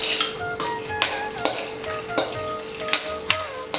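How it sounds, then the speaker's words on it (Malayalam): Cashew nuts and raisins fry in hot ghee for a payasam, giving a close, bright sizzle punctuated by sharp ladle clicks and taps against the pan every half second or so. "അതിലേക്ക് നമ്മൾ നട്ട്സും കിസ്മിസുമാണ് ആദ്യം ഒന്ന് ഫ്രൈ ചെയ്തെടുക്കുന്നത്."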